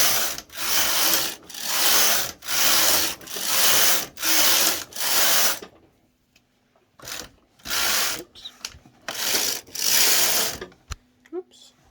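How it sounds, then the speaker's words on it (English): A domestic knitting machine carriage runs across rows of waste yarn in a series of loud, close, swishing passes at a steady rhythm. A pause follows, then more passes mixed with small clicks and handling noises. "I'm going to feed in some waste yarn and knit a few rows."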